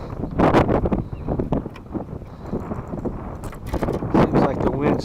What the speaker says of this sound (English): Seems like the wind's changing direction.